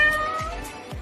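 A schoolchild imitates a cat with a single short meow, close and clear with no other sound.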